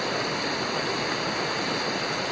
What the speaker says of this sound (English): that water is moving.